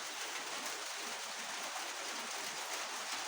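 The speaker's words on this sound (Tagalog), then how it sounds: "grabing ulan" Heavy rain pours steadily, a constant broad hiss with no pauses and no voices.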